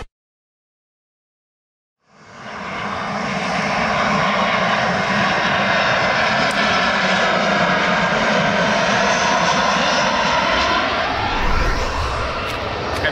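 Silence gives way to a loud, steady roar as an airplane flies overhead. The engine drone builds quickly and holds without a break for about eleven seconds. No voices.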